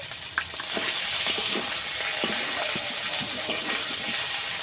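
Ginger garlic paste with turmeric, chili and coriander powders fries in a pan, giving a steady close sizzle with scattered crackles and pops throughout, no voices over it.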